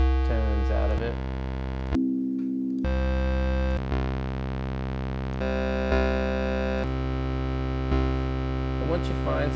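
Sustained synthesizer wave tones generated on a Heisenberg synth, a series of loud buzzy held notes that change timbre every second or two with short gaps between.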